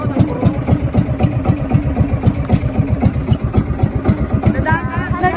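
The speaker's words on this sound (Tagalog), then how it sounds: "Nag-start na nga umandar yung bangka idols pero dahan-dahan lang muna yung aming takbo" Fishing boat engine chugging slowly with a steady, fast rhythmic low putter, close and fairly loud.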